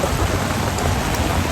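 Heavy rain pours steadily during a thunderstorm at a muddy ditch fishing spot, a dense, loud, continuous hiss of drops drumming on surfaces close by with no talk.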